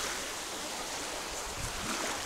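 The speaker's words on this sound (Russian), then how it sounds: "Давайте, все, показываю море." Gentle sea waves wash steadily onto a beach at Lara, Antalya, Turkey, a soft continuous rushing with no voices.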